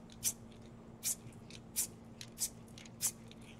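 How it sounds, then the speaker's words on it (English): Short spritzes of teal spray paint hit coasters during a DIY craft project, five brief hissing bursts spaced about every second, close but soft, over a faint steady hum. "I'm just gonna like spray a little."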